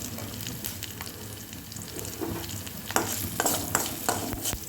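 Tempering spices sizzle and crackle steadily in hot oil on a stove at medium flame, with turmeric added for cucumber dal, and bursts of popping grow louder toward the end.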